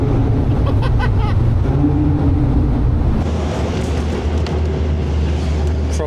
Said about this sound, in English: So we're actually driving through a cave right now.